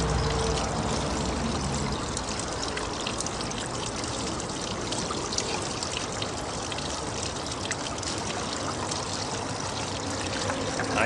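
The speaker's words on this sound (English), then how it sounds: "Now we're going to go ahead and spoon in some material and watch the gold climb up the wheel" Water runs steadily over a gold wheel while spoonfuls of gold-bearing desert sand are fed in, giving a continuous close pouring and trickling wash with no pauses.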